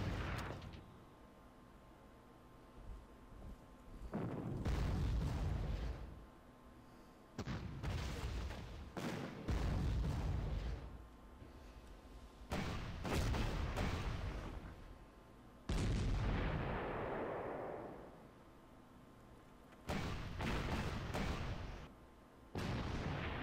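Artillery fire in the Panzer Corps strategy video game: a series of heavy booming blasts, about seven separate salvos, loud and spaced by quiet gaps, with no talk.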